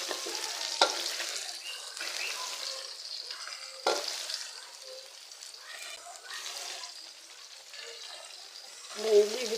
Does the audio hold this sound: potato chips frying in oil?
yes